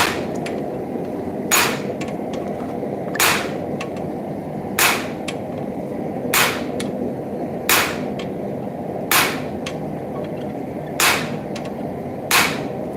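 Hammer blows on a rivet forged from a railroad spike, struck at a steady pace of about one hit every second and a half, each a sharp ringing clang close by over a constant background hiss.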